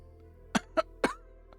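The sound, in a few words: character coughing in video game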